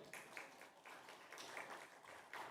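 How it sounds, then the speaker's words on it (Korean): Church congregation applauding during a Sunday service, a soft, distant patter of clapping with uneven bursts, faint and continuous for a couple of seconds. "박수 한번 칩시다."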